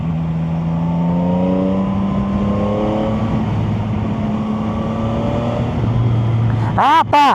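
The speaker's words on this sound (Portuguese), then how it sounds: "esse barulho dos 3 cilindros aqui dela não perde pros 4 cilindros não, viu? Acho filé o ronco." A Chinese three-cylinder motorcycle with traction control switched off roars steadily up close, its engine note climbing and holding for several seconds before a sharp rev near the end, with a rider talking over it.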